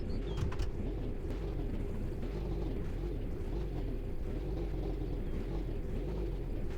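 A car engine in the My Winter Car video game revs and drones while climbing uphill with a slipping clutch, giving a steady low rumble with a rhythmic wavering pulse, continuous and close.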